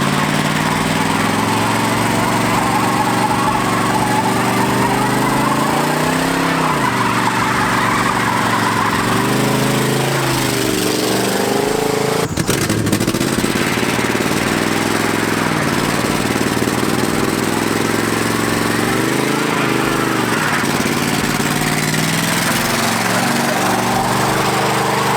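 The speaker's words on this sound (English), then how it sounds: "so we're gonna go do burnouts now" A GMC pickup truck engine roars loud and close as the driver revs it hard for burnouts, the pitch rising and falling with each throttle blip against a constant rough din, with no talk.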